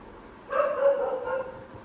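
A dog gives a single sharp bark, fairly close and moderately loud, then a short trailing yelp over a quiet room, with no talking.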